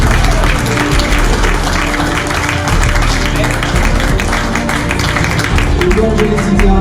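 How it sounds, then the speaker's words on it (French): Steady, loud crowd applause at an art exhibition opening, dense clapping from many hands sustained throughout at close range. "Donc un gros applaudissement,"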